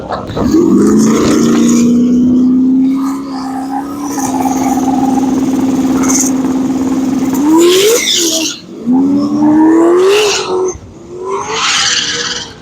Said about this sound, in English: It's got a 388 LS in there with a 98 mil turbo running on C16 fuel.